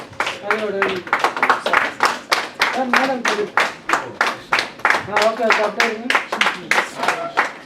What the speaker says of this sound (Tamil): கைத்தட்டிய 4 பேருக்கு நன்றி.